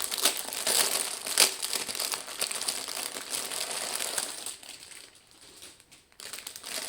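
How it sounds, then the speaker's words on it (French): Plastic wrapping on a cross-stitch diamond-painting kit package crinkles and crackles steadily as it is opened up close, continuous and fairly loud, easing off briefly near the end before rustling again. "je vais vous ouvrir le paquet pour vous la montrer en entière"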